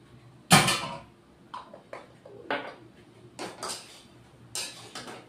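A spoon adds ghee to a vegetarian cabbage ghonto in a pot with sharp metallic clinks and scrapes: one loud knock, then several lighter taps and clatters spread unevenly, close by with no talking.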